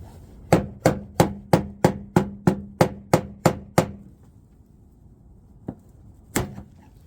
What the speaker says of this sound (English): Where's the hammer?